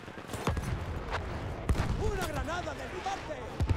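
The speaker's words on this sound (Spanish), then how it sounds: "Y ahora vamos a darnos de tiros con todo el mundo" Gunfire in the video game Battlefield 1, with a few sharp shots cracking over ongoing voice chatter and game noise, irregularly spaced and fairly close.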